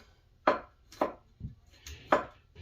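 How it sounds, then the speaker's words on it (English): A knife chops garlic finely on a cutting board, four distinct sharp knocks spaced about half a second apart, close and isolated with no talk. "I'm going to go ahead and take some garlic. I'm going to chop it up fine"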